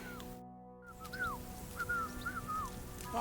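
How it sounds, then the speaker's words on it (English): A character in Kingdom Come Deliverance 2 whistles a wandering tune in several short, gliding phrases, moderately close, with quiet ambient game sound underneath and a brief hush near the start. "Your whistling is getting on my fucking nerves the whole way."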